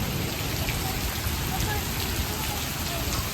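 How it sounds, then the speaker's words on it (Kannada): A village's first heavy downpour of the season falls in a continuous, even wash of raindrops, close and steady for several seconds, with no speech. "ಫಸ್ಟ್ ಮಳೆ ಭರ್ಜರಿಯಾಗಿ ಹೋಯ್ತು ನೋಡಿ"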